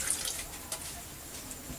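Water is poured into a pot of lemon sauce with sugar during cooking, a soft, faint trickle and splash that is brief and close.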